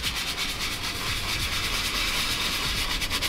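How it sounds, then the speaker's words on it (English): Nylon brush scrubbing a white Tesla vegan leather seat to lift blue jeans dye stains; rapid, steady back-and-forth rubbing strokes, close and continuous, with a rhythmic swishing texture. "Just a nylon brush that I got from my local chemical place."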